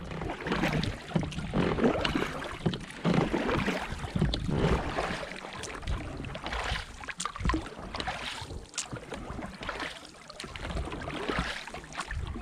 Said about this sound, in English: So I decided to row for some exercise